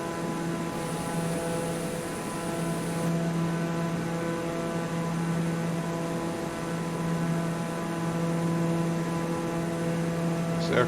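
Steady drone of an airplane flying near Lukla, Nepal, in Microsoft Flight Simulator, a constant tonal hum with layered harmonics that holds evenly throughout, with no talking.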